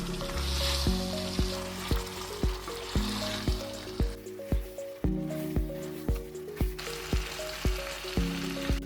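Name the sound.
chicken and potatoes stir-fried with spice paste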